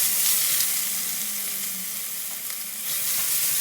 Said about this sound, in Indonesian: Ini bumbu-bumbunya yang udah di blender saya masukin, saya tumis sampai wangi